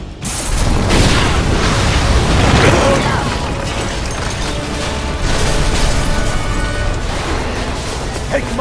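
A gas explosion in the video game Resident Evil 6 bursts loudly near the start, then the rumbling aftermath of game effects continues while voices talk over it.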